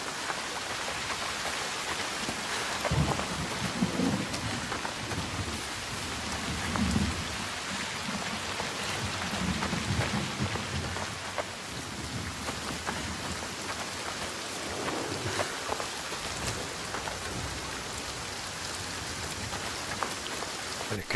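Heavy rain and thunder in the video game Senua's Saga: Hellblade II, a dense, continuous downpour hissing on surfaces with low distant rumbles of thunder rolling underneath, no voices.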